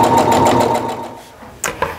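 A sewing machine runs a fast, even stitching burst along a seam on a patchwork Christmas tree mug rug, then stops, followed by a couple of brief clicks and handling sounds.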